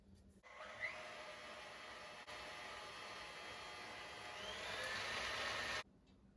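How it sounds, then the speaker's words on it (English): A stand mixer whirs steadily as it beats Oreo chaffle batter made with eggs and powdered ingredients, running close and constant for several seconds, rising slightly before it cuts off. "stand mixer"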